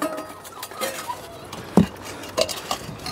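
Plates for dog food handled by someone tending puppies, giving a few scattered clinks and knocks, one sharper clatter standing out over faint background rustling.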